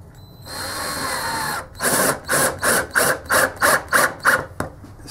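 Power drill boring a pilot hole in wood for a small folding table: a steady whir for a second and a half, then a series of about eight rhythmic pulsing bursts as the bit cuts, close and loud.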